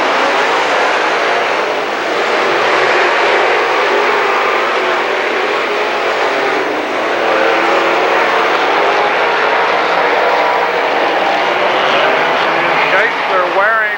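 Late model stock cars roar around Lernerville Speedway in a 1994 heat race, a dense, sustained engine drone from the pack passing near and loud, with a race announcer talking over it.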